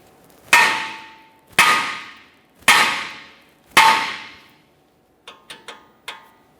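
Hammer strikes on a 2015-2019 Subaru Outback steering knuckle to free the outer tie rod end: four loud ringing metallic blows at a steady pace, then a few lighter quick taps.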